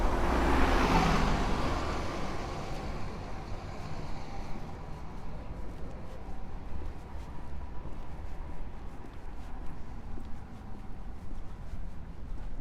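A city bus on Hennepin in Uptown Minneapolis rolls past on a misty, drizzly day, its engine and tyre roar loudest at the start and then easing into a steady wash of street traffic.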